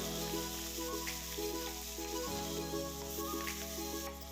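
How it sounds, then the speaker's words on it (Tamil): Onions and prawn masala fry in a pan with a steady, quiet sizzle. It hisses evenly throughout, with no voices. "இப்போ கலர் சேஞ்ச் ஆகிடுச்சு, நல்லா ஃப்ரையாக இருக்குது"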